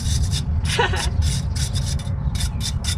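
Close, scratchy rasping of a wire brush scrubbing brake pads clamped in mole grips from a Rover P4, coming in repeated short strokes with brief pauses between them, over a steady low background hum.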